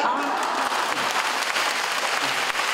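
Audience applause fills a hall at a Tzu Chi event in Keelung where volunteers and the drama cast who play them share the stage; dense, steady clapping continues unbroken throughout.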